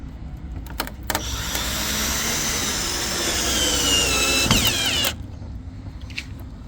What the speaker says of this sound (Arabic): هذا الدريل